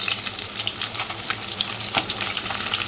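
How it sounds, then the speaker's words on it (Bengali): Snakehead fish frying in oil in a pan, a dense, steady sizzle with crackling pops throughout, loud and close, with no one talking. "এখন হচ্ছে ভাজতে দিয়েছি মাছ।"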